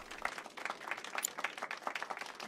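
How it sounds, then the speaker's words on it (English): Applause for a pianist at a concert in Final Fantasy 7 Rebirth, a soft, moderately distant round of crowd clapping that is steady and even and fairly quiet throughout. "let's give our pianist a warm round of applause"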